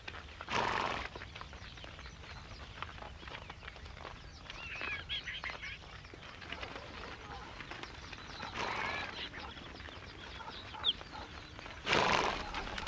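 Herders' horses neigh and whinny while hooves clip-clop at a distance, with fowl clucking faintly in the background of an open outdoor scene.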